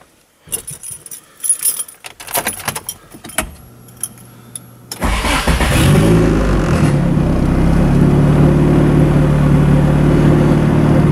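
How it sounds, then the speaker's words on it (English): Keys jangle and clink briefly, then a Nissan Sentra's turbocharged SR20DE engine, which has an oil leak, cranks and catches at about five seconds, settling into a loud, steady idle close by. "I'll go ahead and start the car so you guys can see that it does work"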